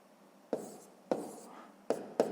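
Numbers written by hand with a pen on paper during a sixth-grade math exercise, heard as four short, faint scratching strokes in quiet, spaced irregularly.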